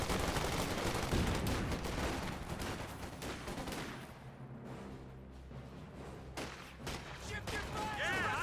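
Gunfire from a Company of Heroes 2 battle, dense bursts of machine-gun and rifle fire mixed with booms, loud and continuous then easing midway before building again, under commentary.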